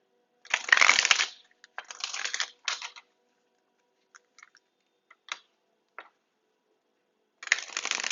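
A deck of tarot cards is shuffled in several quick, crisp riffling bursts, close and clear, with a few soft card taps in the quiet gaps between them.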